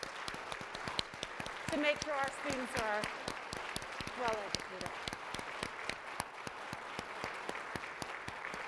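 Conference audience applauds teachers and school systems in a large hall, steady clapping throughout with a speaker's voice talking over it.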